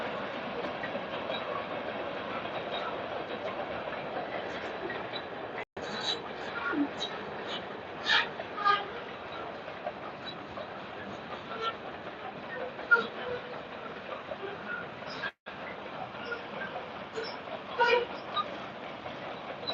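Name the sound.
train passing by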